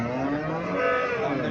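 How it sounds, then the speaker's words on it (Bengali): A Jersey cow at a cattle market in Cumilla gives one long, loud, close moo, a sustained low lowing call. "এখানে একটা গাভী দেখা যাচ্ছে।"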